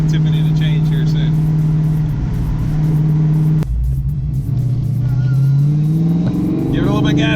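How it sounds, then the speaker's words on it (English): A car with a T56 six-speed manual gearbox revs up, its engine note rising in pitch, cutting off abruptly, then climbing again close by as people talk over it. "Give it a little bit of gas, give it a little gas,"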